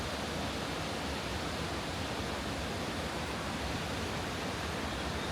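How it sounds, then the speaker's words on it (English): Waterfall at the bottom of Devil's Bridge gorge roaring nearby, a constant, even wash of falling water with no break. "Got the waterfall right behind us."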